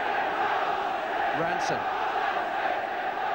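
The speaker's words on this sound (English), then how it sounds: "home crowd raising the atmosphere" A home football crowd at a 1983 league match roars and swells in a broad, continuous wash, with a brief rising shout, under a commentator's voice.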